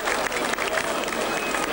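A crowd at the 2003 Candela carnival applauds, a dense, busy clatter of clapping hands that stays fairly loud and steady from start to finish.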